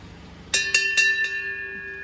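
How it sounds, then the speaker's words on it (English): A small bell rung at an antique show gives four quick bright strikes in a row, each leaving a clear ringing tone that hangs and slowly fades, close and fairly loud with no talking. "Not the same, not as good as Janice's bell, but it's nice"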